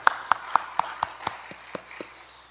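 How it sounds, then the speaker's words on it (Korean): Hands clap in a church service, about nine sharp, evenly spaced claps, fairly close and moderately loud, quickly fading at the end with no voices over them. "큰 박수 부탁드립니다."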